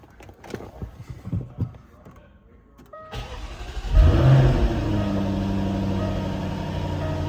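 A 2017 Jaguar F-Type R, not yet up to temperature, starts with a sharp bark and rev, then settles into a steady loud idle, close by, after quieter background sounds.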